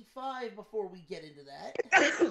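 A single sharp sneeze bursts out near the end, right after a man's speech on a sports betting podcast.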